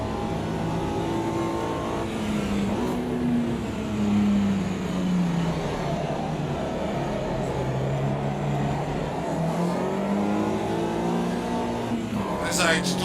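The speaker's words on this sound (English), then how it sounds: "But you can definitely drift a Mini Cooper on Brands Hatch." Mini Cooper race car in Automobilista 2 at Brands Hatch, its engine droning and rising and falling in pitch through gear changes, loud and steady with other cars nearby, while someone talks over it throughout.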